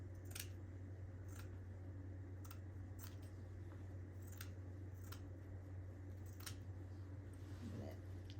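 Scissors snipping craft material, a string of short, crisp cuts spaced irregularly over a steady low hum, close but quiet.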